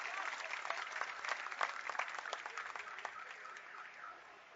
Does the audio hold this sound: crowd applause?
yes